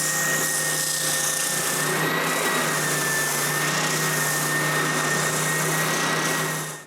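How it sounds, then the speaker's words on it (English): A power sander shapes the corners of a wooden serving tray, giving a steady, loud, continuous whine with a high-pitched tonal hum that holds for the whole stretch, with no talking. "I finish the shape with the sander."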